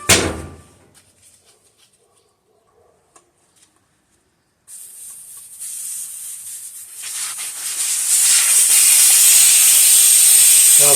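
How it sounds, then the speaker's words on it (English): Air rushing out of a motorcycle car-conversion tire with its valve stem removed, a steady broadband hiss that starts after a quiet stretch and swells louder, holding strong to the end. "We'll pull the valve stem. We'll let all the air out."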